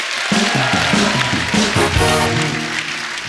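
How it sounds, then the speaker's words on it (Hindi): A studio audience on an Indian TV comedy talk show breaks into a dense, steady wash of clapping that lasts the whole few seconds, with tonal music or voices running underneath. "कंगना जी के लिए जोरदार ताली हो जाए।"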